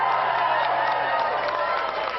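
Raucous crowd applause at a state dinner after a sung rendition of a song, a dense, continuous wash of clapping with no breaks, sounding slightly muffled as if through a broadcast.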